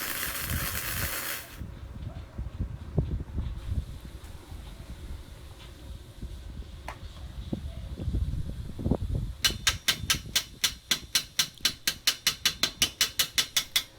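Flux-core welding weave pass with a YesWelder Flux 135 at raised amperage, a steady crackling buzz of the arc that gives way to a rapid, rhythmic ticking near the end.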